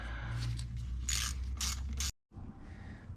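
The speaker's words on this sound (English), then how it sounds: "Just gonna go ahead and tighten this guy down." A hose clamp is tightened on a throttle body intake coupler on a '94 Acura Integra GSR, giving close, quiet ratcheting and clicking against a low hum, ending in a brief pause and a little more mechanical noise.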